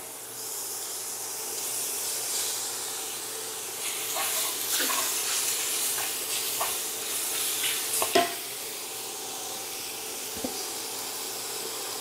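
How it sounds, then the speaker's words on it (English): Spinach for japchae is stirred through a hot pan, giving a soft continuous sizzle with scraping and stirring clatter and a couple of sharper utensil knocks, fairly quiet. "I am going to add the spinach back in to warm it up"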